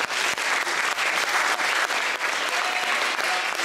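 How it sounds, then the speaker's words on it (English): Dense, sustained applause from a crowd at a student anti-cuts protest, loud and continuous with no break. "I'd like to first give a round of applause to the fantastic active citizens from the schools down there."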